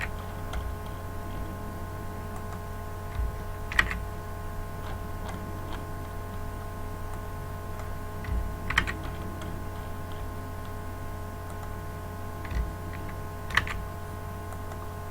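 Amounts are tapped into a computer keyboard, with sparse, faint key clicks scattered over a quiet room with a steady low hum.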